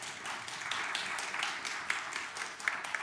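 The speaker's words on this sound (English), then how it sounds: "So can you give them a round of applause?" A congregation at a Christmas carol service applauds the choir, some clapping with gloves on, giving a soft, slightly muffled but continuous patter of many hands, fairly quiet and even.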